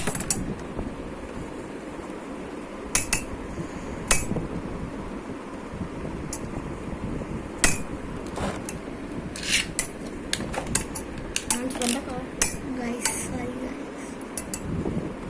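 Beyblade spinning tops, including Galaxy Pegasus and Fang Leone, clash in a stadium with a steady scraping whir and scattered sharp clacks and knocks of collisions, close and continuous.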